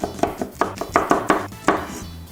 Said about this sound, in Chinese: 我们把其他的配料给切一下，小米辣也切一下